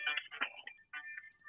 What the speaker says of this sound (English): That was my phone. I have to switch that off.